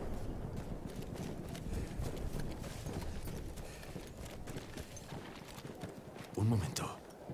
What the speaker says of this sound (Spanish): Un caballo, tío. Me voy con el caballo.